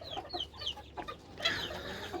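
A hen clucks in short, soft bursts, followed by a louder airy flutter or squawk near the end; no talking.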